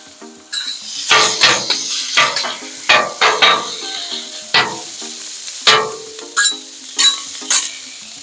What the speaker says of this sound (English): we're gonna put the bacon on the grill